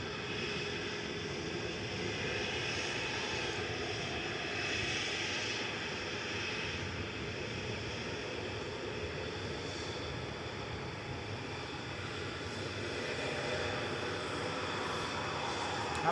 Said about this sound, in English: Heading off to Girona, this is TUI flight 2616